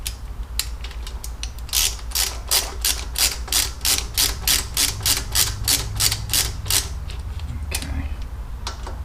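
A ratchet clicks rapidly and evenly, close by, snugging bolts while a Big Sucker air cleaner goes onto a 2006 Harley Ultra Classic, with a few slower clicks before and after the main run.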